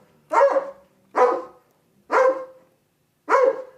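Four sharp, loud barks from a sheepdog, spaced roughly a second apart, close by with quiet gaps between them.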